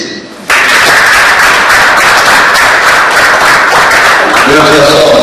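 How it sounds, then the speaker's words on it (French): Wedding guests at an official and religious marriage ceremony break into loud, sustained applause that starts abruptly and fills the room, with a voice faintly audible near the end. "Applaudissez."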